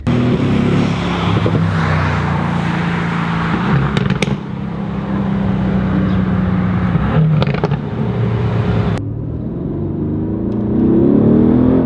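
A Mercedes-AMG GT R engine accelerates hard in sports mode, a loud, continuous roar heard from inside the cabin that rises through the gears, with sharp crackles and pops between shifts.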